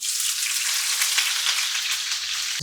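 Onions frying in a pan give off a loud, continuous bright sizzle, close and steady throughout, with a faint clatter right at the end; nobody speaks.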